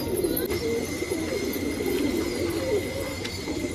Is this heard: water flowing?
no